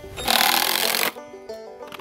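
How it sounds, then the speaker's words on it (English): A power drill drives a screw into a wooden board while building a sawbuck, one loud, steady whirring burst of about a second that stops abruptly, followed by quieter workshop clatter. "So screw into the inside board."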